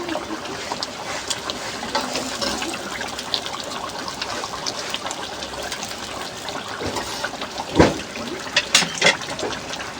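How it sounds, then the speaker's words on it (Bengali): Water poured into a pot of koi fish curry with eggplant, a continuous trickling and splashing with a stronger gush near the end, and no voices. "এতটুকু পানি দেবো, আর পানি দেবো না, এটুকু হলে হয়ে যাবে।"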